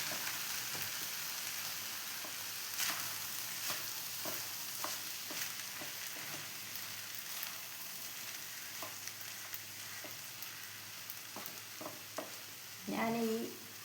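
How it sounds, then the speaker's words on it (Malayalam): Tomato rice is stirred in a pan while it sizzles faintly, with soft spoon scrapes and taps at an irregular pace and a louder clatter near the end, without speech. "ഇനി നമുക്കിതെല്ലാം ഒന്ന് ഇളക്കി കൊടുക്കാം."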